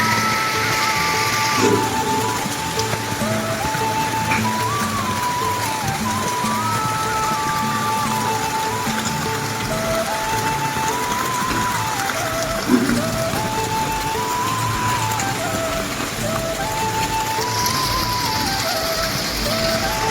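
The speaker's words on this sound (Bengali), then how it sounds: "দেখা যাক কখন বৃষ্টি ছাড়ে" Steady rain falls on a village home, a constant soft hiss throughout, with a faint warbling bird or other tone repeating in the background.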